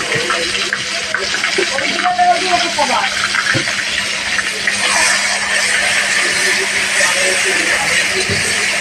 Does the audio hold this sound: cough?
no